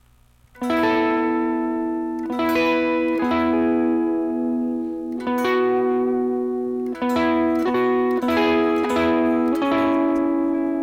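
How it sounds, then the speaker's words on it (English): An electric guitar plays a line by strumming across three strings together. Clean ringing chords come in a slow, even rhythm, several strums in a row, with no voice. "I'm still strumming the entire 3 strings while I'm playing this line"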